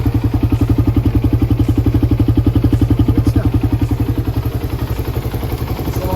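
A Raider 150 carbureted motorcycle engine idles close up with a fast, even, pulsing thump and a light mechanical clatter, loud and steady throughout with no talking.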